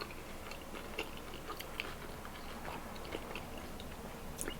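Someone chews a Korean corn dog coated in crisp rice, with faint, close, irregular crunching bites and small crackles against quiet background noise and no talking.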